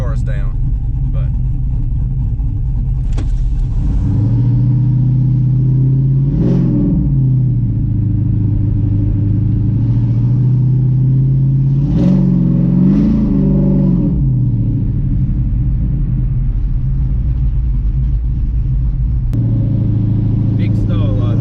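A Chevrolet S10 truck with a swapped 5.3L engine, running on regular pump gas, drones loudly while driving, rising in pitch through two clear revs before settling back to a steady rumble.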